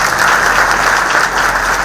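Dense, steady applause from a crowd at a religious procession gathering in Surat, loud and continuous with no voices on top.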